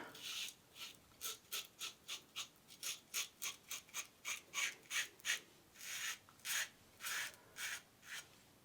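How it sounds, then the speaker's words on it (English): A non-adjustable Schick type J safety razor fitted with a Ted Pella blade scrapes through stubble in a steady series of short, close, rasping strokes, roughly two per second, with no talking. "Okay, let's do a shave."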